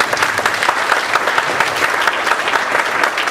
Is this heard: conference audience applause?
yes